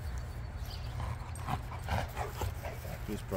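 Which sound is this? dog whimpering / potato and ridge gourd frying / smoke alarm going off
dog whimpering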